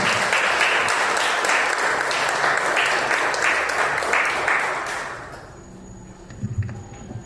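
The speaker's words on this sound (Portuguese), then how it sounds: "vou pedir agora as palmas para o Senhor Jesus" A church congregation at worship applauds together, a loud sustained roar of many clapping hands that fades out toward the end, leaving quieter room sounds and a few thumps.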